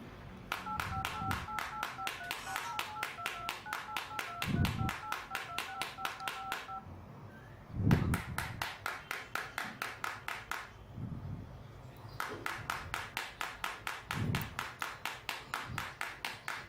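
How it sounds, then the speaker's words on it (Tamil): A tool taps steadily on the screen of a Redmi Note 5 Pro phone during a scratch test: rapid, even clicks heard up close for the whole stretch, with short pauses and faint electronic beeps early on. "நான் டூலை வச்சு தட்டிக்கிட்டே இருக்கேன்"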